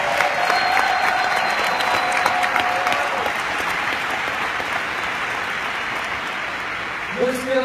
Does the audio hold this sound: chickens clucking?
no